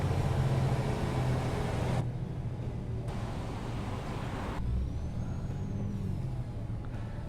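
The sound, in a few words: truck driving in video game American Truck Simulator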